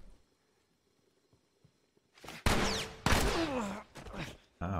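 Gunfire in The Last of Us Remastered on Grounded mode. After a quiet opening, loud close bursts of shots break out and repeat in rapid volleys until the end.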